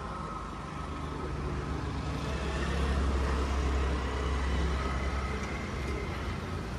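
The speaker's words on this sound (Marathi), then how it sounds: "आता गाडी पार्किंगला लावतोय" A car rolls slowly into a parking spot during a road trip from Panvel to Ladakh, its steady, close engine rumble and road noise continuing without pause.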